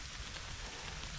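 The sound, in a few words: rain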